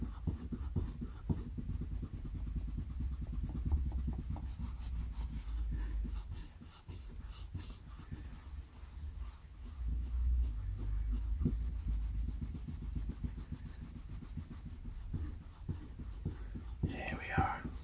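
Steady, close rubbing and scrubbing as vintage Star Trek paper collectibles are cleaned by hand, a continuous soft friction with brief gaps, carried on under a low background hum.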